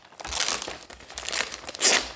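Packaging for a DJI Avata 2 Fly More Combo drone is pried open and crinkled close by, a run of irregular plastic and paper rustles with a few tearing bursts and a louder crunch near the end; no talking.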